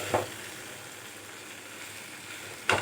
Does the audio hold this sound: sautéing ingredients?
yes